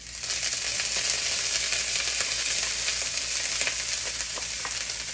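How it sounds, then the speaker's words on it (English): Shrimp fried rice sizzles and crackles loudly in a hot wok, a dense continuous frying hiss with sharp scraping stir strokes scattered throughout. "it will steam instead of actually stir frying and getting that wok hate and that flavor on it"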